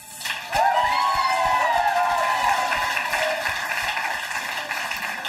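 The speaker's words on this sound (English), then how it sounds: "let's hear a round of applause for the judges." A crowd at a spoken word poetry slam claps and cheers loudly, with whoops and a rising shout over the applause, which fades slightly toward the end.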